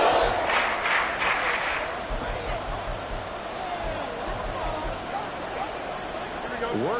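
Video game stadium crowd in Madden NFL 24 cheering loudly at fever pitch late in a close NFL game, a dense continuous roar with rhythmic chant-like surges early on, holding steady throughout.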